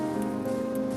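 Steady rain patters in Minecraft Bedrock, a dense continuous hiss of drops with a faint underlying hum.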